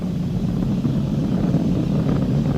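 Falcon 9 Merlin 1D engines throttling back up to full power after max Q during a crewed Crew Dragon launch: a steady, continuous low roar that fills the clip without break.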